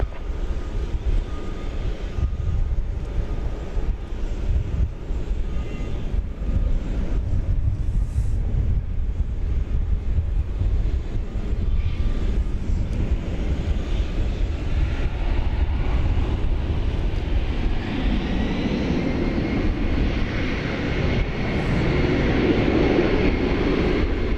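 An airliner taking off from runway 18 left at DFW Airport: a broad, steady distant roar that swells toward the end, with wind buffeting the microphone throughout.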